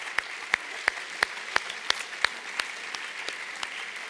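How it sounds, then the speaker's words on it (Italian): Sparse applause at an Italian talk event: a small number of evenly spaced, fairly crisp claps, roughly ten in a few seconds, over a quiet room with no speech. "Dedichiamo questo applauso ad Alberto"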